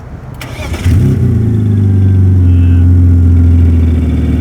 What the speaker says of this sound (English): Yeah, that's your clutch chatter